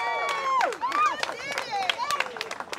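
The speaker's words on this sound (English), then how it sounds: "Cheer them on!" Wedding guests cheer and call out together for the couple in a short, lively burst of mixed voices, with shouts and whoops overlapping at close range.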